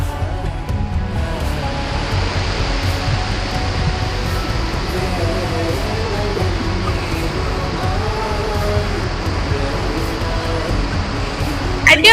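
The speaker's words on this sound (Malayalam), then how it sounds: "നല്ല വെള്ളച്ചാട്ടമാണ് അല്ലേ." Bhoothamkuzhi waterfall in a rainy forest gives a steady, loud wash of rushing water that fills the whole stretch, with faint hints of voices and a brief louder burst at the very end.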